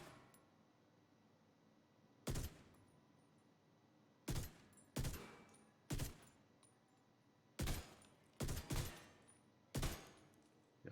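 A rifle in a video game fires two-round bursts, each a sharp paired crack, repeated about eight times at uneven gaps over a quiet hum, with no one talking.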